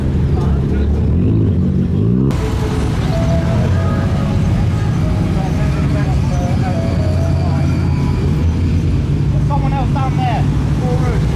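Modified Nissan Skyline R34 arriving at a busy car meet, a loud engine rumble and exhaust roar that fills the scene as it pulls in, with a crowd talking around it.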